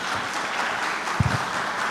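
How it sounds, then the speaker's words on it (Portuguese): Church congregation applauding after a sermon testimony, steady moderate clapping with a low thump in the middle. "uma salva de palmas para o Denival."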